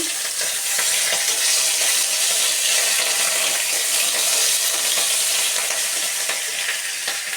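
Ginger paste sautéing in a pan with whole cumin for a vegetable dal, a loud, close, continuous sizzle with scraping stirs throughout and no talk.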